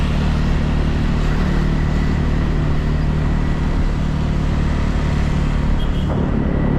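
Motorbike riding through street traffic in Jakarta, Indonesia, a steady close engine drone with constant road and traffic noise around it.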